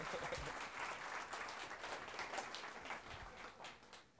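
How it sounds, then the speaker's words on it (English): Sustained audience applause fills a hall during a real estate association's annual membership meeting in Orange County, a steady dense wash of many hands clapping that tapers slightly toward the end. "Give him a big round of applause."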